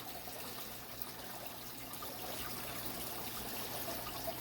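Water streams steadily out of an aquarium tank as it is drained during cyanobacteria (blue-green algae) removal, a continuous trickling wash that stays even and moderately loud throughout with no voices.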